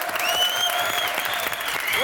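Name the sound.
studio audience applause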